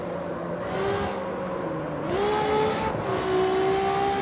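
Nissan GT-R in the street racing game CarX Street, built lightweight, its engine note rising steadily through the revs with a shift midway, close and sustained, no talking.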